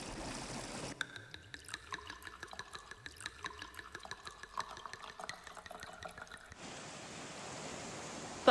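Bubbles forming in water make a run of quick, bright plinks and gurgles in an irregular rhythm, fairly close and moderately loud, set between stretches of broad hissing water noise at the start and end.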